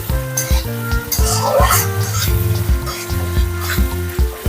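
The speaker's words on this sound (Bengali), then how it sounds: "এইভাবে না কষে নিতে হবে" Shahi paneer masala being sautéed in a pan for a vegetarian dish, with a steady scraping stir, light sizzle and occasional utensil clinks against the pan, close and continuous.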